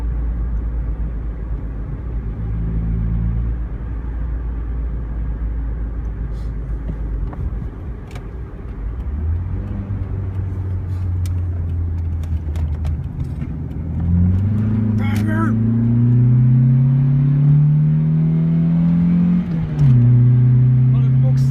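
A car approaches with a low engine rumble that swells, its pitch rising as it revs and draws near, then passes close by, with background noise throughout.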